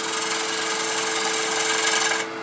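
A negative rake scraper shears across spinning wood on a lathe, a steady close hissing scrape with a faint motor hum beneath, stopping abruptly near the end.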